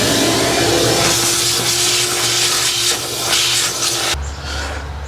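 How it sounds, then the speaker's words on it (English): Shop vacuum running steadily up close while cleaning debris from a 1986 Ford 302 engine before the timing cover comes off, a continuous loud whine and hiss that cuts to a lower hum near the end. "I'm gonna give it a little vacuum there first, just to get as least junk in the oil pan as possible"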